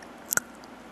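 Fresh roasted nuts, almonds among them, give a single quick crunchy bite: two sharp clicks close together, close and clear in a quiet room.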